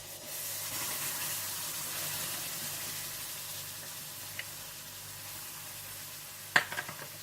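Barbecue honey sauce of barbecue sauce, honey, soy sauce and black pepper sizzling steadily in a pan, a soft continuous hiss with a couple of sharp utensil clinks near the end.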